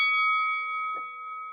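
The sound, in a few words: bell ringing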